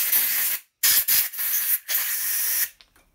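Compressed air blows through a freshly cut and filed motorcycle indicator stalk in a workshop, several loud hissing blasts separated by short pauses, close and clear.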